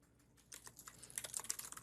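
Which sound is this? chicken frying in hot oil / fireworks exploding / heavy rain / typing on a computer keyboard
typing on a computer keyboard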